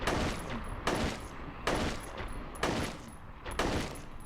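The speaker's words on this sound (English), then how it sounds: "I guess we'll give him a shotgun!" Shotgun blasts in the survival horror game Silent Hill 3, four heavy booming shots at a steady rhythm, each rolling into the next over a constant dense background, with no talking.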